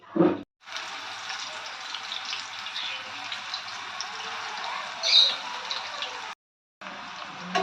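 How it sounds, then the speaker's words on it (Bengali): Banana chips, cut into long strips, sizzle in hot oil with a steady, even crackling hiss that runs for several seconds, broken by a brief pause near the start and another near the end. "আমি সব চিপসগুলো ভেজে নেব।"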